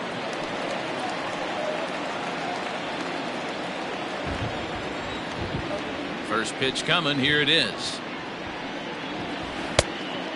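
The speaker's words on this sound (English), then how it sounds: "that rain is really coming down right now." Heavy rain pours down on an MLB ballpark during a Baltimore Orioles versus New York Yankees game, a steady dense hiss filling the whole clip beneath a commentator's voice, with a brief crowd stir near the end.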